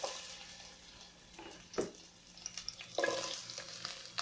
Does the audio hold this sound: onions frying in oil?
yes